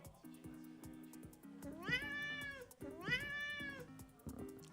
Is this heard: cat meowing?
yes